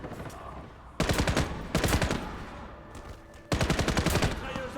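Machine gun fire in the shooter game Warface, three long sustained bursts of rapid automatic shots, loud and close, separated by brief lulls of quieter ambience.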